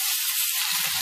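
Boiled beans and potato frying in a little mustard oil in a wok, a brief steady sizzle with a faint low stir near the end.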